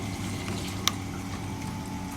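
Water flows into the collection tank of a hydraulic bench during an orifice meter test, a faint, continuous rushing hum with one brief click partway through.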